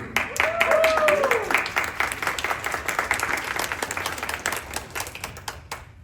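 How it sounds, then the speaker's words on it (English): An audience at a monthly community meeting bursts into applause with sharp individual claps, a cheer rising at the start, then the clapping thins out and fades away. "the biggest round of applause that you've gotten"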